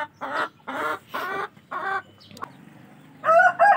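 Free-range village chickens in a farm coop, a mixed breeding flock kept for fertile eggs, cluck nearby in a run of short, evenly paced calls. A brief rustle follows, then louder squawks, with no talking.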